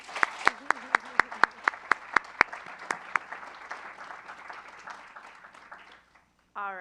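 Applause for a team after its pitch at an education challenge final: a handful of sharp, evenly spaced claps ring out up front amid a broader patter that thins and fades, then a brief tonal sound enters at the end.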